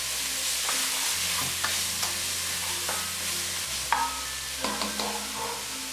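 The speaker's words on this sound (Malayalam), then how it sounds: "ഇതിലേക്ക് സവോള ചേർത്ത് നല്ലതുപോലെ ഒന്ന് വഴറ്റി കൊടുക്കാം" Onions for a homemade vegetable pizza sauté in a pan with a steady low sizzle. Clinking spoon strokes and scrapes come in a loose rhythm, with no voices.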